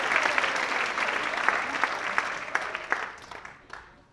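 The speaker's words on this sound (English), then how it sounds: "If we just got another round of applause for WampTV for putting that all together." A crowd at the Dancing with the Staff 2019 show applauding WampTV, a brisk wash of clapping with sharp individual claps standing out, fading toward the end.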